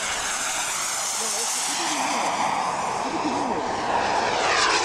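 An ultralight jet aircraft's turbine engine runs steadily with a loud broadband roar and hiss, holding a constant level throughout, while faint voices talk briefly underneath.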